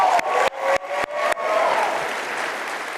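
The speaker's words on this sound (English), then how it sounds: "you can clap" A large crowd at a Turning Point USA student summit in Tampa, Florida breaks into loud, sustained applause, a dense wash of clapping with faint cheering, briefly chopped by cuts early on and then rolling on steadily.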